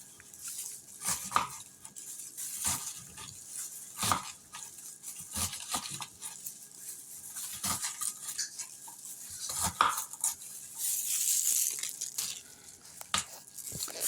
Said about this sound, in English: we're going to continue to chop these cabbages in squares